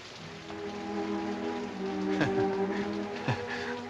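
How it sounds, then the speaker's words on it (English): Steady rain patters with a constant hiss in a 1954 film, with a few sharper drips and knocks near the end. "It's raining."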